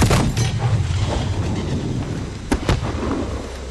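A heavy explosion in the video game Modern Warfare, a loud booming blast that rolls and rumbles, followed by a couple of sharp, close cracks near the end.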